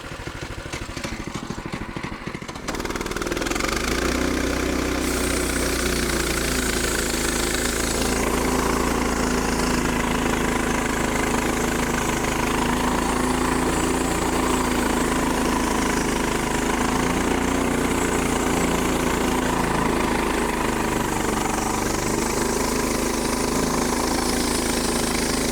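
Frontier Sawmills OS18 portable sawmill with its engine running and cutting a log on a slightly dull blade, a steady loud droning engine roar that continues throughout.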